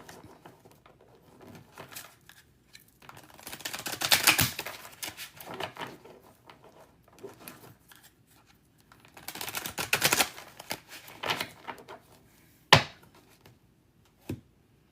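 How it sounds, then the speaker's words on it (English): Tarot cards shuffled by hand in bursts of soft riffling and patter, with a couple of sharper taps as the deck is squared, close and fairly quiet. "as I'm shuffling these cards"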